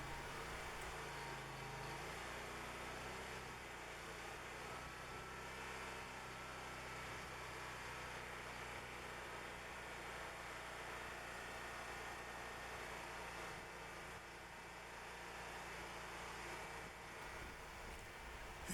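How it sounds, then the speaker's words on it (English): A Cooks bandsaw mill's engine idles steadily, a continuous low drone holding even throughout with no talk over it. "Here I idled the saw down a bit and engaged the blade."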